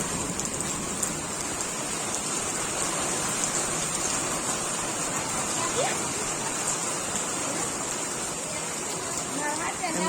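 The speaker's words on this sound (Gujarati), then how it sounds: "વરસાદ જો ચાલુ થઈ ગયો છે મોટા મોટા છાટા" Heavy rain with large drops pours steadily, a dense, even hiss of drops striking surfaces close by, with a voice speaking faintly beneath it.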